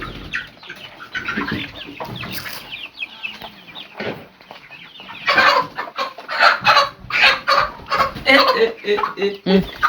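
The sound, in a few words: chickens clucking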